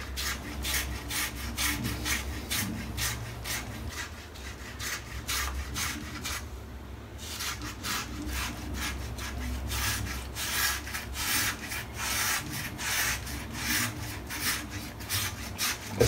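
Close, rhythmic buzzing and scraping strokes of an electric shaver moving over the skin of a head, repeating steadily with a brief pause partway through.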